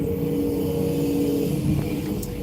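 A 50 tonne excavator's diesel engine running at a steady, loud, low rumble close by, with no talk.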